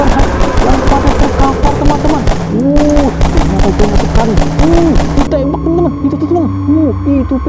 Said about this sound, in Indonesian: soldier sedang menembak para monster teman-teman